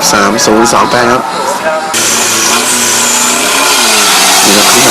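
A race car engine revs hard and rises in pitch at a loud, busy race show, the roar near and continuous, with an announcer talking excitedly over it.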